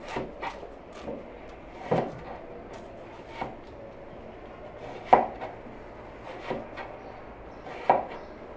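A knife chops through melon on a cutting board, with sharp, separate thuds at irregular intervals, some louder than others, close by and with no talk.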